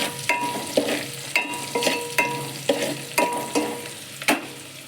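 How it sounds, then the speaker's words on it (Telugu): Whole spices (bay leaf, stone flower and cinnamon) frying in oil in a pan, stirred in a steady rhythm of close scraping knocks, about two per second, over soft sizzling, no one talking. "వేగనివ్వాలి."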